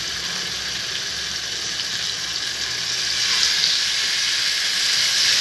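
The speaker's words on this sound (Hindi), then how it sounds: "देखिए इस तरह से आवाज़ आनी चाहिए, इतना गर्म हो हमारा तेल।" Marinated chicken frying in very hot oil for a spicy Korean-style chicken dish, a loud, steady, hissing sizzle that swells slightly halfway through, with no talk over it.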